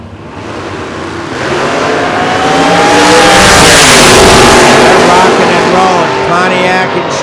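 A 1957 Chevy drag race car at an ANRA season finals event roars down the strip, its engine note rising and swelling loud and steady as it accelerates toward the top end, with an announcer talking over it.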